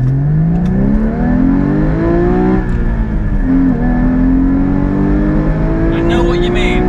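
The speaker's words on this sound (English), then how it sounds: "Let's see if we can just get some acceleration on this car. Okay, so starting in first" Porsche 911 Carrera S accelerating hard from a standstill in first gear, the engine note climbing steadily in pitch, dipping briefly at a shift and rising again, loud and close throughout with a voice briefly talking over it.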